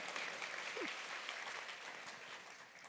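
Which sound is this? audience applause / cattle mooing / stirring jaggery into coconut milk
audience applause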